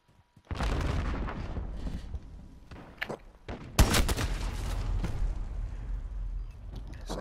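Rytec AMR anti-materiel rifle fired in a video game, heavy booming shots with sharp transients near 3 and 3.8 seconds over dense ongoing battle noise and distant gunfire.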